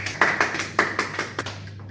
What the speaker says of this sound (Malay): berikan tepukan kepada Andika